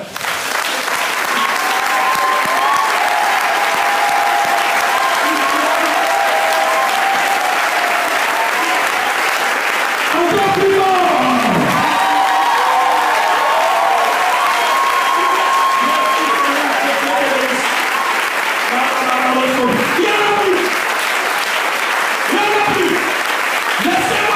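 A church congregation in Cameroon applauds steadily and loudly for the whole stretch, with voices and cheers mixed into the dense clapping.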